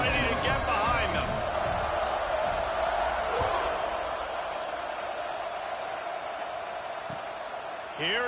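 A college football stadium crowd roars before a kickoff, a broad sustained din of cheering with whoops, loudest at the start and easing slightly, under a commentator's voice.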